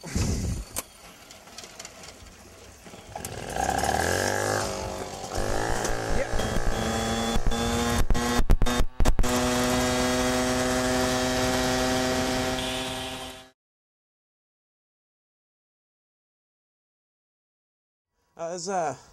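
A 1980 Maxi Sport Mark II moped with a 2-speed engine starts up and runs, its small two-stroke buzz rising and falling in pitch for about ten seconds before cutting off abruptly into silence.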